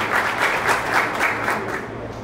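An audience breaks into sustained applause for the São Paulo transport secretary at a government event on airport investments, with steady clapping filling the whole moment.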